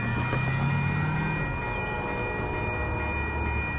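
Amtrak Coast Starlight train #11 rolls past 98th Ave in Oakland, California, a loud, continuous rumble of rail cars with steady tonal wheel squeal throughout.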